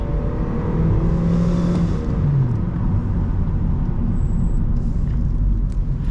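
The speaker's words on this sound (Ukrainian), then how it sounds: "от зараз я наче натискав з постійною якоюсь, постійним якимось зусиллям на газ, а вона дала мені першу передачу" Honda Civic 8 engine accelerating from inside the cabin, a loud droning rumble with the pitch climbing and then falling around a gear change, steady road noise throughout and no talking.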